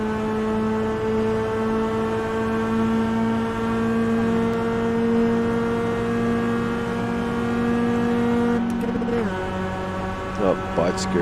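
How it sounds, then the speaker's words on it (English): A race car in a Daytona racing video game holds a loud, steady high engine whine, then the pitch abruptly drops and wavers during a fumbled gear change before rising again. "Oh, botched gear change"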